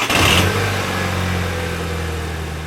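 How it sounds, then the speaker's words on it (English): A VW Mk6 GTI engine fires up after its transmission was reinstalled, with a loud burst at the start that settles into a steady idle, heard up close with no talking. "Okay, let's start it up and see what happens."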